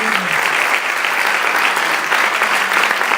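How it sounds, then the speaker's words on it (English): Students and families at a high school honors ceremony for the class of 2015 give a loud, sustained round of applause, a thick wash of clapping that holds steady for the whole stretch. "Give yourselves a round of applause."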